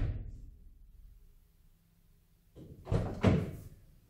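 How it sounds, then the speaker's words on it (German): A car door on a Hyundai Kona Elektro electric car is pulled shut with a firm, muffled thunk near the end, after a stretch of near silence. "jetzt kriege ich sicherlich auch die Tür problemlos zu"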